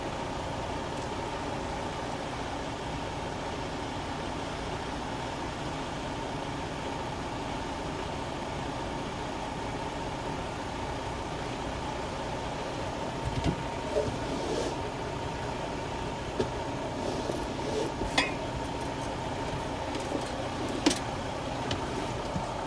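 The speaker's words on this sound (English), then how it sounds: "Now I will start the truck" Semi truck engine idling during an in-cab inspection, a steady low hum heard from inside the cab, with a few faint clicks and small thumps toward the end.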